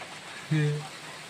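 Steady rain hiss fills the background for about a second, with a brief low voice-like tone rising over it midway.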